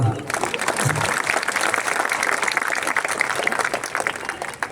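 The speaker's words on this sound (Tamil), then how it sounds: "கைத்தட்டுங்கம்மா" Audience at a political stage event clapping, dense steady applause from a crowd, loud and close, holding for several seconds before tapering off.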